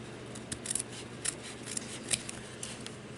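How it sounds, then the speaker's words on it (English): Scissors snip paper squares for miniature Christmas ornaments, with several short, crisp cuts spaced irregularly and close to the listener against quiet room noise. "I'm going to take my scissors and I'm going to cut a couple of squares here"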